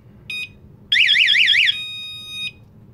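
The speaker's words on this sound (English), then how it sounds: "It's a classical door alarm." A classical door alarm sounds nearby and loud: a short beep, then a warbling siren tone for almost a second, a steady held tone, and a final brief beep.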